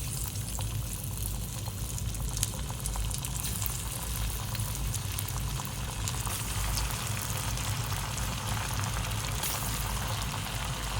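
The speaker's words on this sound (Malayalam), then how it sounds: "ഇനി ഓയിലിട്ട് വറുത്തെടുക്കാം." Paneer cheese bites coated in maida batter and powder fry in hot oil, a steady, dense crackling sizzle that stays even and close throughout, with no voices.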